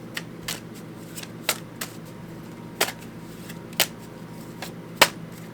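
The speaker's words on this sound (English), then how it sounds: "I'm going to pull a rune card for you now" A tarot reader shuffles a deck of rune cards and draws one, giving soft irregular papery flicks and snaps, several sharper card slaps spaced a second or so apart, close and quiet with no talking.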